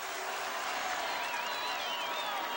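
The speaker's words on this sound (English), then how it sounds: "They'd like the crowd to quiet down just a little bit in that end zone." Stadium crowd noise from a 1997 Virginia vs North Carolina college football game, a steady loud roar of fans in the end zone that holds level throughout, with whistles or cheers rising above it.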